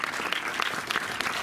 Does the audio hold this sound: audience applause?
yes